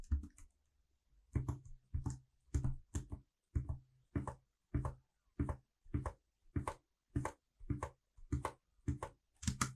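Computer keyboard key tapped repeatedly in a quiet room to drop markers while a jump rope plays, giving a steady rhythm of sharp, close clicks about every half second.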